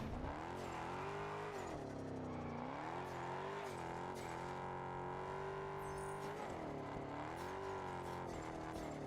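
Sustained engine drone from a car in the Test Drive Unlimited Solar Crown racing game as the handbrake throws the back end into a slide, with pitch rising and falling through repeated revs and a faint tire squeal.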